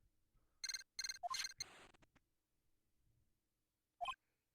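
A transceiver rings in the Phoenix Wright: Justice for All video game, giving a quick run of bright electronic chirping bursts, then a pause before one more short burst. The chirps are clear and stand alone with no talking.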